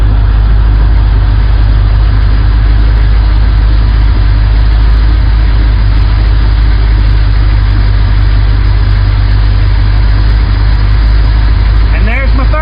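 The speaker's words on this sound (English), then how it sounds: "It's getting closer and closer to 30. Engine, the RPM's picking up." A 1972 Chevrolet Impala engine idles loudly and steadily close by during a tune-up, its low drone constant throughout as the RPM gradually rises, with a brief metallic sound near the end.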